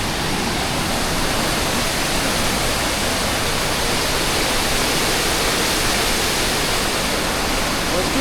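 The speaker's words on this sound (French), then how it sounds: "sacrée cascade" Steady, loud roar of a big mountain waterfall close by on the Tour du Mont-Blanc, filling the scene evenly with no pauses or distinct events.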